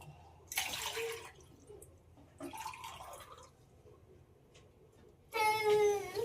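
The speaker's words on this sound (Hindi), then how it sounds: "पेड़ों में पानी डाले" Water splashing and pouring onto plants at a village home, a couple of separate gushing bursts with quieter trickles between, fairly close, with no talk.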